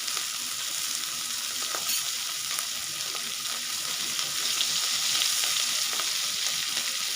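Fish pieces frying in hot oil for a village-style spicy fish curry, giving a steady, dense sizzle with faint crackles, close and continuous, no voices.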